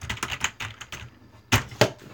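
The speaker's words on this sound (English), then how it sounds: "typing random things I didn't mean to type onto my notepad" Quick taps on a phone's touchscreen keyboard while entering notes, a close, irregular run of light clicks with short pauses, then two louder, sharper taps near the end.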